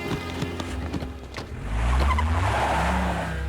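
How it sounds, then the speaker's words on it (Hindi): A car speeding hard with tires skidding, engine roar building and a long squeal of rubber growing louder toward the end. "गाड़ी कैसी है रे? एकदम मस्त भाई, जेट की तरह उड़ रही है।"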